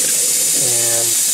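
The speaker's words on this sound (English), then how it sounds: "I put them in here and just hit it with the cold water." Cold tap water runs over hard-boiled eggs in a kitchen sink, a steady close rush that shifts as the pot fills, alone without talk.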